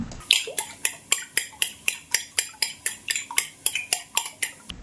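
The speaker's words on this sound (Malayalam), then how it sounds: "മുട്ടയിലേക്ക് രണ്ട് നുള്ളു പൊടിയും കൂടി ചേർത്ത് നല്ലതുപോലെ ഒന്ന് അടിച്ച് പതിപ്പിച്ച് മാറ്റി വെക്കണം" Eggs with a pinch of powder are beaten briskly in a bowl, giving about fifteen evenly spaced clinking strokes in a fast steady rhythm, close and clear, with no talking.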